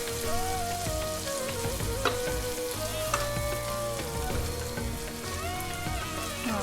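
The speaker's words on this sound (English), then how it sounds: "Going to saute that a bit till it's fragrant." Aromatics sautéing in a hot pan for butter chicken, a steady bright sizzle and crackle running continuously, fairly close, with no talk over it.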